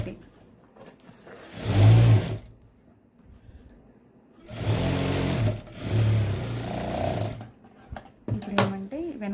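A sewing machine running a loose stitch along a seam, heard nearby in two bursts of fast motor whirring with quieter handling noise between them.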